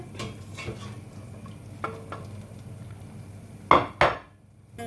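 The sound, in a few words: cooked meat being placed onto a plate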